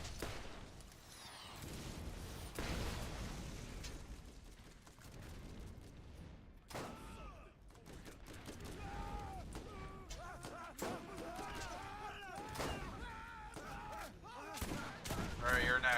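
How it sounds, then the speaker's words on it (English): Rocket turrets firing in the Borderlands video game, a rapid volley of gunfire, launches and explosions that builds in density, loud and close, with someone briefly talking over the action. "I forgot he's got turrets protecting him. And they're rocket turrets also."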